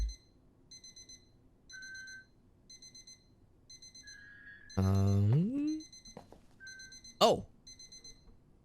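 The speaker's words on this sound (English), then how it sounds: "A beeper going off?" A small electronic beeper in a haunted PS1-era demo game gives a steady pattern of short, high beeps, with a brief drawn-out voice exclamation midway and faint quiet between the tones.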